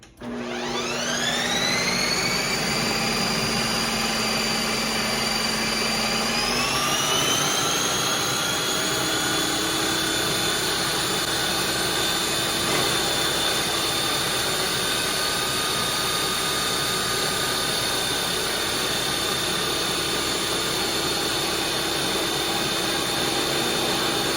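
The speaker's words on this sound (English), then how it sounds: "You can hear that grinding sound because it's grinding through a chunk of ice and protein ice" An ice cream maker whines steadily at a high pitch, its tone dropping slightly after a few seconds as it grinds through frozen chunks of protein ice cream, then droning on.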